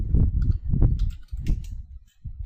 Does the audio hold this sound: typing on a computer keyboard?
yes